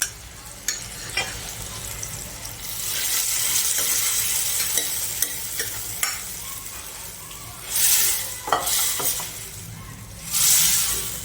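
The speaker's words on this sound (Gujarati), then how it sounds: "જે દાળ બાફી છે ને એ નાખીશું" Boiled lentils poured into a hot spice tempering for Kathiyawadi panchratna dal, bubbling and sizzling steadily while a spoon stirs and scrapes the pot, with louder splashy bursts near the end.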